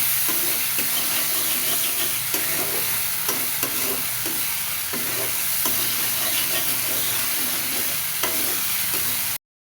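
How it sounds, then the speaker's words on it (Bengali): Spice paste with salt and a little turmeric fries in a pan with a constant hissing sizzle, broken by regular scraping strokes of a spatula, and then the sound cuts off abruptly at the end. "হালকা একটু হলুদ দিয়ে মশলাটা ভালো মতো কষে নিব"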